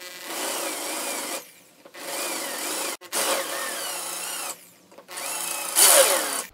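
A power drill bores a countersink into wood for a screw head, whining in several loud sustained bursts separated by short silent breaks, close up with no speech.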